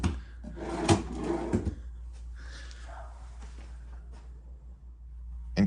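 Drawer in a hotel room at Courtyard by Marriott Baton Rouge Downtown sliding open and shut, with a clunk and wooden scraping near the start, then a quieter slide and a soft knock at the end over low room hum.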